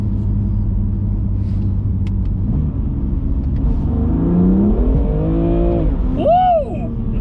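A 720bhp 2020 Audi RS6 rumbles at low revs during a powerslide, then its exhaust swells and rises in pitch with a short, sharp rev near the end, close and loud, as voices talk over it.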